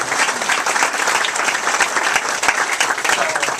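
An audience at a campaign event in a grill restaurant gives sustained, dense applause for a mother, loud and close, with a few cheers mixed in.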